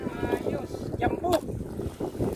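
Gusty wind buffets the microphone in rumbling bursts, with faint voices and water sounds in the background.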